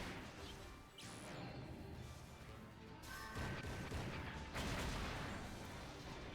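A grenade launcher strikes in the mech battle game Fuga: Melodies of Steel 2, heavy crashing blasts and mechanical clatter layered over a steady game soundtrack, faint and alone.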